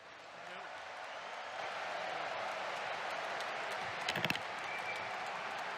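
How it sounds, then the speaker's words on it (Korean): A large audience in a hall at a Korean 50th-anniversary rally for the Billy Graham crusade applauds to welcome a speaker. The clapping starts quietly, then swells into a steady, broad wash of sound that lasts several seconds. "뜨거운 박수로 맞이해 주시면 감사하겠습니다"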